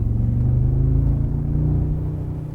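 Loud, steady low exhaust rumble from a 2022 Mercedes-Benz G-Wagen G63 AMG while driving, a continuous deep drone holding close and strong throughout, with no talking.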